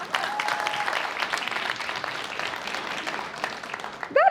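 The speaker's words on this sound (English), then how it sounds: "Can we clap it up for that?" Crowd at a Black-owned business mixer in Grand Prairie claps for a business owner of 24 McDonald's, a dense, even round of applause that thins near the end before a sudden louder vocal burst.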